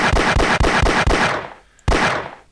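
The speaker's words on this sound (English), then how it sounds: "you can press and hold right click to fire slightly faster. Or you can left click to shoot once." A Glock pistol in a video game fires in a rapid run of about seven sharp, loud shots, followed by a pause and one more shot, with no talk.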